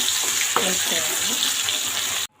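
Spice paste drops into hot oil already seasoned with cumin and mustard seeds, and a dense, close sizzle follows. A voice briefly talks over it before it cuts off abruptly.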